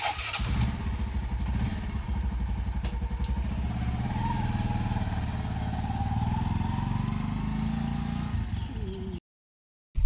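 A motorcycle engine runs close by at a steady, throbbing idle, with a brief rev partway through, then cuts off abruptly near the end.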